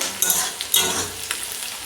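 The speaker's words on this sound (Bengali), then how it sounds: "ক্যাপসিকাম আর পেঁয়াজটা হচ্ছে একদম ভাজা হয়ে গেছে" Brief burst of capsicum and onion sizzling in a pan, with a few sharp stirring scrapes over the hiss.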